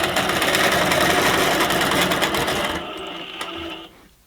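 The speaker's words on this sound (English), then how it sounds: "I'm going to go ahead and stitch this down." A longarm quilting sewing machine stitching down a quilt binding runs with a fast, steady mechanical whir that is close and loud, then drops away and stops near the end.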